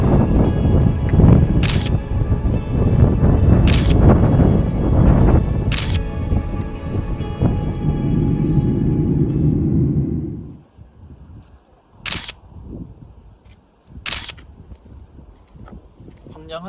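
A Pentax K-3 Monochrome fires its shutter five times, each a crisp, close click. The first three come over a rumbling outdoor wind and talk, the last two over near silence.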